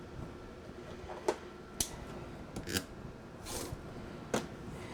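Scrapbook paper being trimmed to 1.5-inch strips with scissors or a paper cutter gives a handful of faint, sharp snips and crisp paper rustles, spaced irregularly over a quiet room background with no talking.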